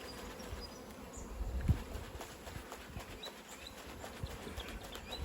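Honeybees and many drones droning inside an open hive, a faint, steady low buzz that carries on throughout, with one soft thump near the start.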